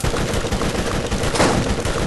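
Rapid gunfire in the Borderlands video game, a dense burst of loud shots crackling without pause for about two seconds with no talking.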